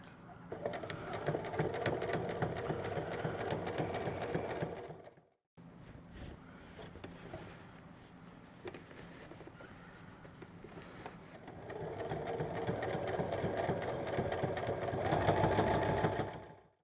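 A home sewing machine runs in steady bursts while stitching an elastic waistband on a skirt lining, whirring loudly for several seconds, pausing briefly, then running again and speeding up near the end.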